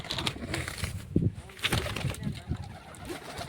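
Pigeons moving about a village pigeon loft, with soft cooing and brief wing flaps close by, scattered bursts over faint background rustling.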